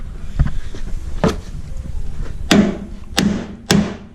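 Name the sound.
hammering bent metal straight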